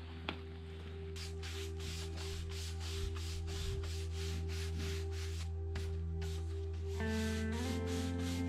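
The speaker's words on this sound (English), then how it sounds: "So we're just gonna do some sweep off the sawdust." Brushing sawdust off cocobolo wood pieces gives a run of regular, soft swishing strokes over a steady background hum, close and fairly quiet, with no talk.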